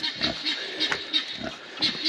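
Pigs in a muddy pen on a rainy-day homestead grunt and oink in short repeated snorts, moderately close, over a steady background hiss.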